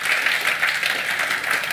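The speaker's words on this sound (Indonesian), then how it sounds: "Tepuk tangan buat Tuhan." A congregation claps in praise during a church sermon, a steady dense wash of applause filling the room without speech.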